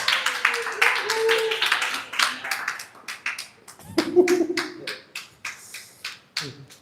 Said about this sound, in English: A big round of applause. Let's clap for her.